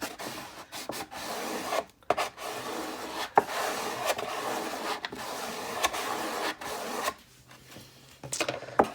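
Steady rasping scrape of a tool pressing vinyl stencil transfer tape down onto a wooden tray, close and continuous in several strokes with brief pauses, quieter toward the end.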